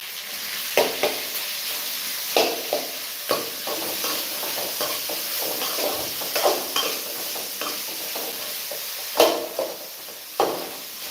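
Onions and tomatoes sauté in a pan for mint chutney, a soft sizzle running underneath as a spatula stirs and scrapes in repeated sharp strokes against the pan.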